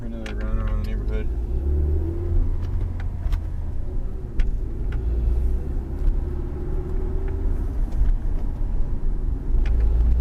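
A 2004 Saturn ION drives around a neighborhood after brake line work, its engine rumbling steadily up close with cabin road noise while people talk inside.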